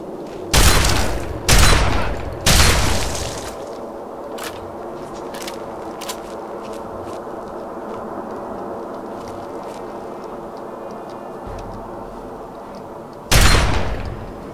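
Three heavy, booming shotgun blasts in quick succession in Fallout 3 at a Chinese forward camp, followed by quieter distant pops and crackles over a humming background, then one more loud close blast near the end.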